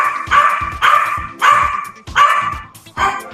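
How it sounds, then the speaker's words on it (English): A dog barks five times in loud, close bursts spaced roughly half a second apart, each bark sharp and full, with no talking over it. "can you help me with this dog?"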